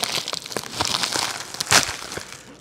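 A Coldest brand 21 oz water bottle's plastic packaging crinkles and crunches close up as it is opened by hand, with irregular tearing and crackling bursts and one sharp rip near the end.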